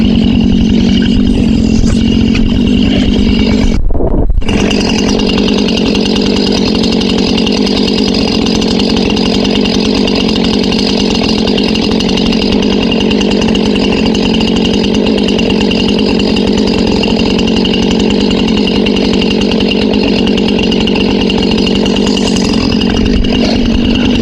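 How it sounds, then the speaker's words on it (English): A chainsaw runs loud and steady while bucking logs for a woodpile, the engine roaring continuously with a brief dip near the start, and no one speaks. "Got the saw warmed up."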